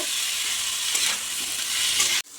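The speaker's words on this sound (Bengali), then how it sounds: "ফুলকপিটা একটু ভেজে নেব।" Steamed cauliflower, seasoned with salt and turmeric, fries in a hot pan with a steady, dense sizzle that stays loud and close throughout, then cuts off abruptly near the end.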